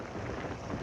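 Heavy rain pours down in a dense, unbroken roar over a WWI trench scene, loud and close with a deep low rumble beneath.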